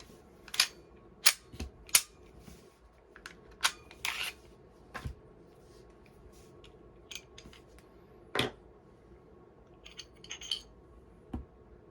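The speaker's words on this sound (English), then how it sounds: "I'm going to take the barrel out of the CZ so I can make some good comparisons for you." A CZ pistol is field-stripped to remove the barrel, giving a series of sharp, close metallic clicks and snaps spaced irregularly over a quiet background, with no talking.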